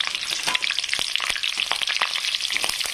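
Cumin and green chillies fry for pav bhaji in hot oil, giving a steady, close crackling sizzle with sharp spitting pops throughout and no talking.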